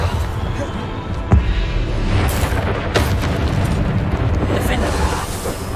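A Bombarda spell explosion in the Hogwarts Legacy video game lands as one dull boom amid continuous, dense game noise and rumble.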